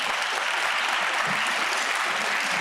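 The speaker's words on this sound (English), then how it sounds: "A round of applause for them." An audience at an inclusivity panel session claps in a dense, sustained burst of applause, steady and full throughout with no voices standing out.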